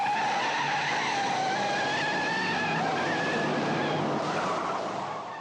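Tires squeal in a long, continuous skid as a car spins in a reverse 180 stunt, the high screech wavering and fading slightly as the car slides.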